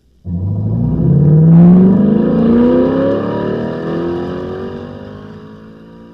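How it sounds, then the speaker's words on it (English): A 1961 Chevrolet Corvette engine starts up and revs hard, its loud rising roar climbing through the gears before easing into a steady, fading drone, with no talking over it. "Sounds of the Corvette, 1961."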